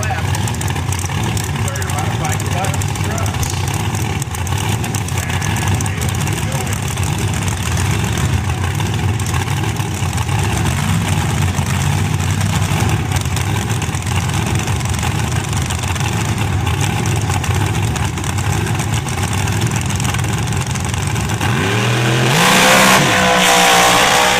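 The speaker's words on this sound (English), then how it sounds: "to Carher, who comes in here with the Ford-powered machine with the 632 cubic inch big block Ford power plant built by Tony Bischoff" A drag race car powered by a 632 cubic inch big block Ford engine on a 300 shot of nitrous, its engine roaring loud and continuous, swelling toward the end, under a commentator's voice and crowd-level noise at a championship drag event.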